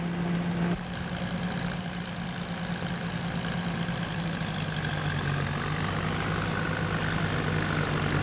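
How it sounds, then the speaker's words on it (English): A D14 tractor engine runs steadily while powering a harvester, a continuous loud mechanical drone with no pauses throughout. "your tractor remains stationary, while D14 power winds up the harvester"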